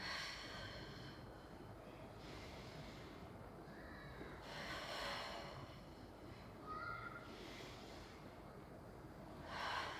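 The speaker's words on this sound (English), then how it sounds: "Inhale. Exhale." Slow, deliberate breaths in and out during a guided leg-lengthening exercise, several soft airy swells rising and fading at a steady pace, close and fairly quiet over a faint background hiss.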